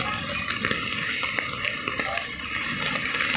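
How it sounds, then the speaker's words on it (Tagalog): Floodwater flowing steadily through a street in the Balintawak market and LRT area during heavy rain, a continuous watery rush with scattered splashes and trickles, fairly close and steady throughout. "tuloy-tuloy pa rin yung agos ng tubig"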